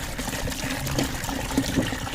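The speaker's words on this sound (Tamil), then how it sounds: "தண்ணி ஊற்றுறோம்." Water pours into a bucket while watering a spring onion bed, a gurgling, splashing trickle that runs continuously at close range with occasional louder splashes.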